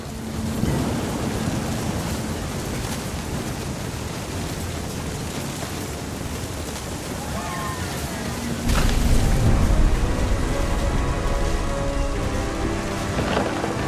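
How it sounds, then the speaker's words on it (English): A thunderstorm brings heavy, steady rain hissing across the whole stretch, with a deep, close rumble of thunder rolling in past the midpoint and lingering under the downpour. "The thunder sounded much too close and full of angry power."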